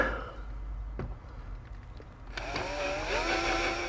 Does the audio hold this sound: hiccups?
no